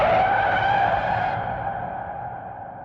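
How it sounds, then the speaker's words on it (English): A car swerving and skidding off a road, a sustained, loud tire screech that slowly fades and drops in pitch over a few seconds, with no voices. "That's when the car swerved."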